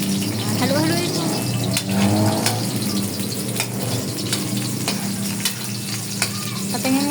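Fish and vegetables sauté in a pan with garlic and onion, giving a loud, continuous sizzle broken by repeated scrapes and knocks of stirring, with brief voices in the background.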